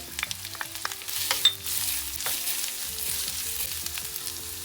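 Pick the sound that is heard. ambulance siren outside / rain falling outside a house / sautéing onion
sautéing onion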